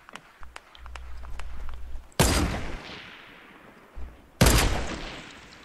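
Gunfire in the Fortnite battle royale game: small distant pops early on, then two loud, sharp gunshot blasts about two seconds apart, each trailing off into an echoing decay.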